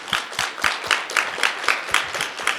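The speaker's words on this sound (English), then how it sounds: "please join me in a rousing round of applause" Conference audience applause, heard as distinct, evenly spaced claps in a steady rhythm. It sounds fairly close and stands on its own without speech.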